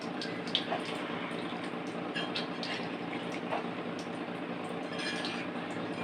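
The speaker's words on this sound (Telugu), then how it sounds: "ఒక గ్లాస్ వాటర్ అయితే వేస్తున్నాను" A glass of water poured into simmering chicken curry, a steady close rush of liquid lasting several seconds with faint clinks, no talking.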